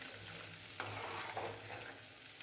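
Country cow's butter simmers into ghee in a pan, a soft continuous sizzle with quiet stirring scrapes, close and alone with no voices.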